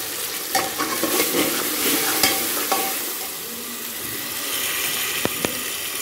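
Ground spices and browned onions fry and get stirred in a pan for matar pulao, a loud, steady sizzle broken by scraping stirs close up, with no talking.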